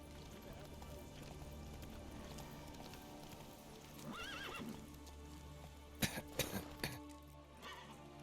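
Roach the horse in The Witcher 3 gives a loud whinny midway, followed by a burst of snorting and clip-clopping hooves that rise to sharp peaks, over a steady game ambience.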